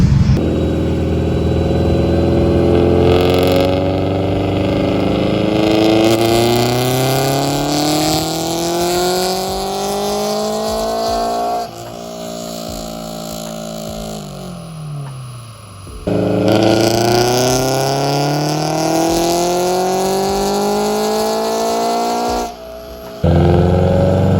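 A turbocharged Subaru BRZ drift car revs on a dyno, its engine climbing in long, loud rising pulls, dropping back, then sweeping up again, with turbo whoosh and exhaust drone throughout.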